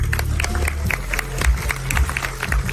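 Sparse, scattered clapping from a small audience at a magic show aboard the Carnival Mardi Gras cruise ship, steady and fairly close over a low room hum, with no talking.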